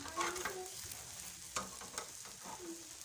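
Breakfast, including egg, frying in a pan on the stove while being stirred, with a soft continuous sizzle and scattered clinks and scrapes of the utensil against the pan, close and fairly quiet with no talking.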